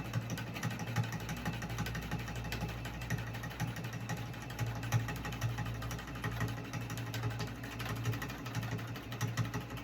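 A sewing machine stitches a wool-batting quilt on a Cutie frame, a steady fast mechanical whirring with rapid needle ticks, running close and continuous throughout without talk.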